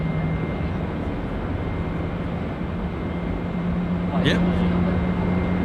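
The GE engines of a Boeing 777-300ER spool up at Auckland Airport, a steady distant rumble with a faint rising whine that builds toward the end, while a voice speaks briefly nearby.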